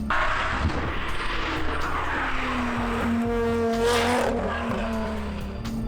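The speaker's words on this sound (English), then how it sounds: "as you can probably hear, my exhaust system" A modified 460hp Lotus Exige's engine drones loudly nearby, its aftermarket exhaust note rising in pitch as it revs, with a throaty, rumbling tone throughout.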